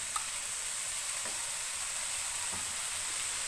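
Chicken fried rice sizzles steadily in a hot pan as soy sauce goes in, a continuous bright frying hiss with faint scrapes of stirring underneath.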